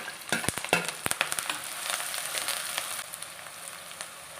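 Onions sauté in a pan for a drumstick poriyal, giving a soft steady sizzle broken by a burst of quick spatula taps and scrapes early on, then fading to a gentle frying hiss.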